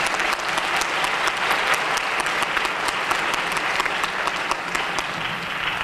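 A ceremony crowd at a university presidential investiture gives sustained applause. The clapping is loud, dense and close, and a few sharp individual claps stand out against the steady wash.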